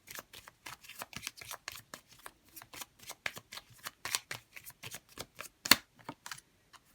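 A deck of tarot cards is shuffled in a quiet room, with a quick run of soft, close riffling flicks and slaps repeating unevenly for several seconds.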